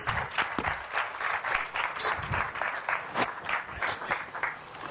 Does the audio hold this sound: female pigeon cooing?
no